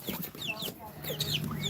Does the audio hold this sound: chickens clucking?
yes